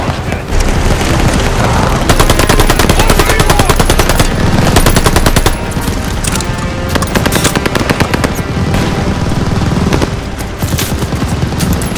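Sustained, loud machine gun fire from the WWII shooter Call of Duty: Vanguard, rapid bursts rattling nearly without pause over booming explosions, with shouted voices buried in the battle din.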